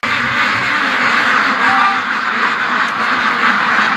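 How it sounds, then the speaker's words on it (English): Ducks being let out quack loudly and continuously as a close, steady flock chorus, with no talk over it. "let's let the ducks out"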